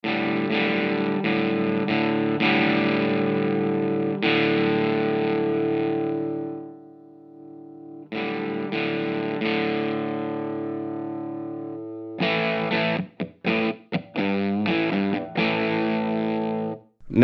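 An electric guitar played through a distortion pedal, chasing a classic rock tone, plays heavily distorted chords and sustained notes with a thick, buzzing tone, pausing briefly midway, then ending in choppy palm-muted stabs.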